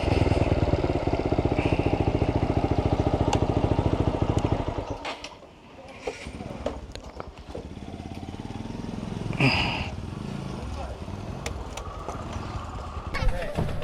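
A motorcycle engine idles close by at a parking spot for about five seconds, then shuts off, leaving quieter outdoor ambience with people talking and scattered small noises.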